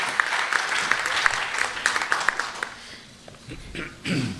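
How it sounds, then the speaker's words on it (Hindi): Audience applause at a mushaira poetry gathering greets a poet taking the stage, dense clapping that fades after about three seconds, then a short burst of voices near the end. "जोरदार तालियों से इस्तकबाल कीजिए"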